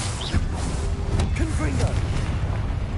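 A fiery Incendio spell bursts in Hogwarts Legacy, a loud whooshing boom with crackling, swirling tones over rumbling game ambience, several short surges across a few seconds.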